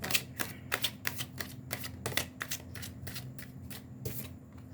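Tarot cards being shuffled and laid out, a quick series of crisp riffling snaps and slaps at close range, coming in rapid, fairly regular bursts over a steady low background hum.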